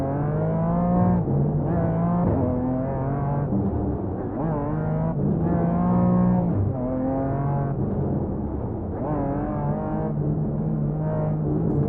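A BMW GT4 race car on the Nürburgring in iRacing brakes hard and accelerates repeatedly, the engine note climbing through the gears and dropping on downshifts in a steady loud onboard drone, with no talk.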